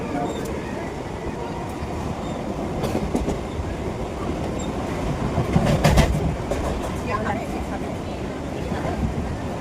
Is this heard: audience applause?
no